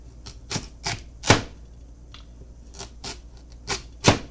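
A knife slicing through a golden beet on a cutting board, a series of about ten crisp chopping strokes at an uneven pace, close and distinct against a quiet background.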